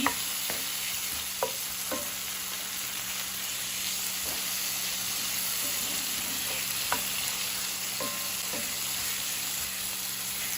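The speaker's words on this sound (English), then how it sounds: "I'm going to let this saute for about a minute until my fire is over medium heat" Onions and garlic sautéing in a pan over medium heat, a constant, even sizzling hiss broken by occasional light scrapes and taps of a stirring utensil.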